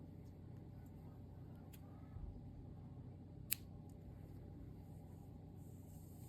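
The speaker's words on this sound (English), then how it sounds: "Cut your yarn." A single short, crisp snip of scissors cutting crochet yarn is heard once, faint and close against a quiet room with a low background rumble.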